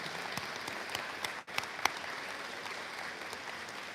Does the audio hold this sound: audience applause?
yes